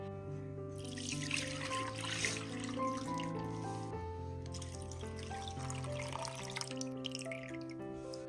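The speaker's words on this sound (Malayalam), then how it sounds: "ഈ ഇളനീരിന്റെ വെള്ളം നമുക്ക് ഒരു ബൗളിലേക്ക് അരിച്ചൊഴിക്കാം." Tender coconut water is poured through a strainer into a bowl, a soft continuous trickle and splash that sits quietly beneath louder background music.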